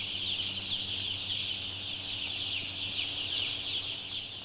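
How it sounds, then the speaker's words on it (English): Chickens cluck continuously on a farm, a dense flock chorus at moderate distance with steady background hum and no speech. "Chickens are by nature social, curious, and intelligent animals."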